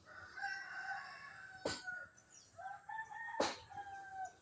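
A rooster crows twice, two loud harmonic calls a couple of seconds apart, with quieter clucking between and around them.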